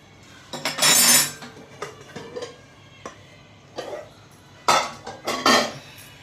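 A block of jaggery is broken up while making wheat kheer and puran poli. It comes as a few sharp, clattering knocks and cracks in separate bursts, with quieter taps between them and no talking.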